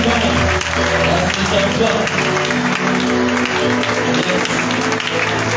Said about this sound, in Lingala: Est-ce que vous pouvez acclamer les Seigneurs?